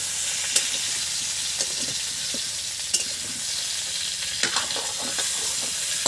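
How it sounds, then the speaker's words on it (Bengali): Cauliflower fries in a pan while khichuri bhog is cooked for Saraswati Puja, a steady close sizzle with a spatula stirring and a few sharp scraping clicks against the pan, with no voices. "ভাজা ফুলকপি।"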